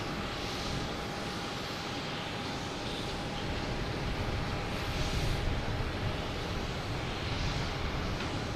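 An airliner takes off at Boston Logan Airport at night, bound for Fort Myers. Its engine roar is loud and broad and holds steady, swelling slightly, with no talking over it.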